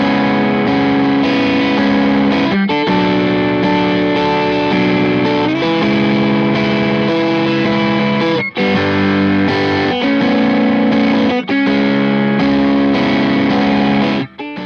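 A distorted electric guitar riff through an amp into a Palmer Supreme Soaker attenuator and load box, miked alone, dense and loud, with brief stops between chugging phrases.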